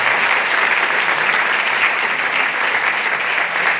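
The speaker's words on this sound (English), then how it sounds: "We're going to clap a few times" Dense audience applause fills an awards ceremony hall, a steady, loud, even roar of many hands clapping together without pause.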